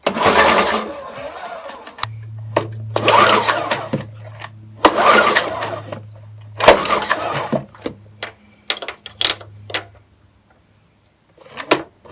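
A lawn mower's small engine, which has no spark, is cranked repeatedly in bursts of pull-start rattling and whirring, with short pauses and clicks between attempts; it never catches.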